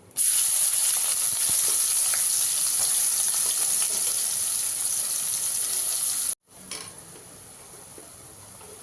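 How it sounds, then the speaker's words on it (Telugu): Onions frying in hot oil with bay leaves, cinnamon, cardamom and cumin for an egg masala curry, a loud steady sizzle that drops off abruptly and resumes more quietly. "ఇందులో ఆనియన్స్ వేయాలి"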